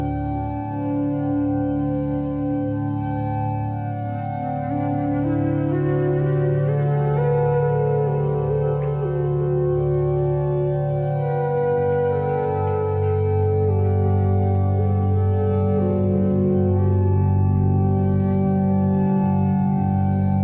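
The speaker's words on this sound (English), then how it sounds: "that was some sounds from the Innermap app, and specifically that sound was be accepting." A meditative tone from the Innermap app, a steady layered drone with slowly shifting sustained pitches, plays alone and fairly loud for about twenty seconds without speech.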